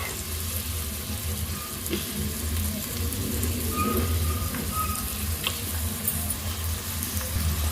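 Onions, green chilies and curry leaves fry in hot oil for a baby potato kurma, giving a steady, moderately quiet sizzle and crackle with a few light clinks of stirring.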